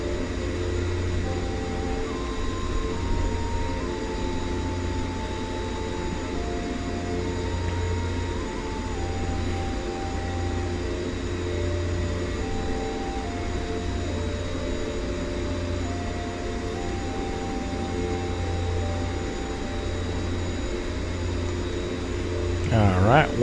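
Aircraft taxiing in X-Plane 11 flight simulator after brake release at Grand Bahama International Airport, a steady engine drone with tonal whine running continuously and moderately loud, a voice briefly heard near the end.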